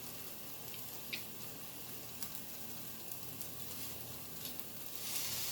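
Minced garlic sizzles faintly in a pan as the base for a pasta sauce. A soft, steady frying hiss is broken by a few small pops and a light clink near the end.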